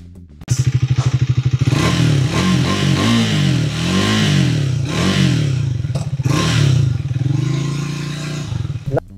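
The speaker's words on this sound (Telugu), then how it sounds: "ఫ్రెండ్స్ ఒకసారి ఈ బైక్ సౌండ్ అయితే మంచిగా వినండి" Triumph Speed 400 motorcycle, a 400 cc road bike, with its engine running loud and close, a steady throbbing idle swelling into repeated revs that rise and fall in pitch before a final blip.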